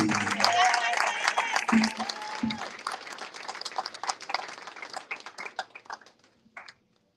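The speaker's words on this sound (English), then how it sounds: "Please continue to clap." An audience claps for graduates at a graduation ceremony for a human services career support program, dense applause at first that thins into scattered individual claps and fades out near the end.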